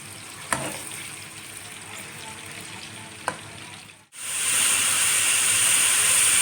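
Onions fry in a pot for degi aloo gosht, a steady low sizzle with a couple of sharp utensil taps, then a sudden loud, bright surge of hissing as more is added, continuing close and strong.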